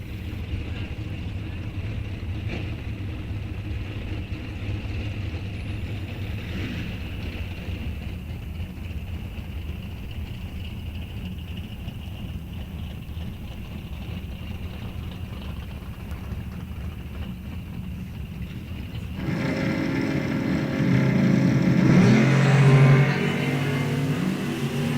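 A 2001 Cavalier and a 1980 Monza launching at a drag race, a steady engine drone under wind noise that swells into a louder roar near the end, with a faint announcer voice.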